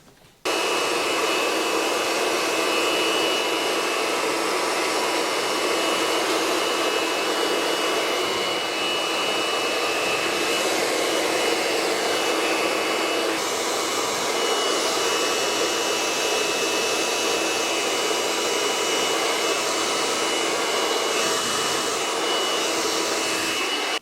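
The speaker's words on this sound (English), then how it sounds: "When I'm blow drying it, I do want to make sure that I'm not changing that shape." Steady, loud hair dryer blowing continuously on a beard at a barber's station, a constant close-up whooshing roar that holds unbroken for the whole stretch with no talking.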